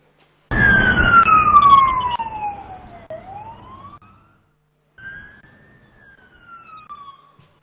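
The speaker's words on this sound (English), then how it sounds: "what you just heard was the siren because time is up" A loud siren signaling time is up wails with a falling pitch sweep, fades out, then sounds again more softly after a short pause.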